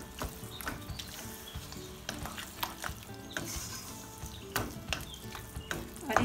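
Peas going into frying keema in a pan, stirred with a spatula: scraping strokes and clatter over a steady sizzle, with sharp knocks against the pan throughout.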